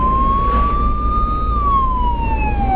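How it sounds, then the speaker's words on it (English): Police car siren wailing close by behind a moving vehicle, a loud steady tone that rises, holds, then slowly falls, over a constant low road rumble. "Got a police car behind them."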